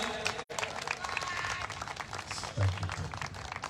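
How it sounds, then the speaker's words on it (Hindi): A gathering at a gospel festival in Jharkhand claps to welcome a guest, steady crowd applause filling the whole stretch with a brief dropout near the start and some voices mixed in. "सब जोरदार ताली बजाएंगे।"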